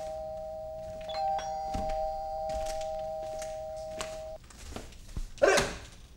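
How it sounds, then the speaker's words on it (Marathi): A doorbell rings with a sustained two-tone electronic chime at home, followed by a few thumps and a dog barking sharply nearby. "बेल वाजली"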